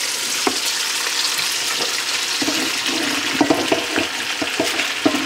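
Cabbage and andouille sausage fry over high heat in a pan, a dense continuous sizzle close up, punctuated by scraping stirs and small clacks.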